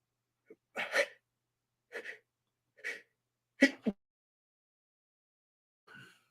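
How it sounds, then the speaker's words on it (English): A single close sneeze, followed by a few short breathy vocal bursts and a brief pause, then a faint sound at the end. "Sneezed a little bit."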